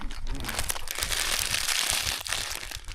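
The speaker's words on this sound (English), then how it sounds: "take my chips and then mash those things up" Chips crushed and mashed inside a crinkly bag on a trail, continuous close crunching and crinkling plastic rustle with no speech.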